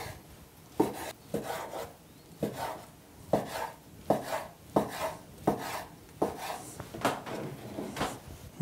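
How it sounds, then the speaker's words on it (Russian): Crab sticks are diced with a knife on a board, making a steady series of soft, dull chops at close range, roughly one or two each second, with no talking. "Нарезаем кубиком снежный краб."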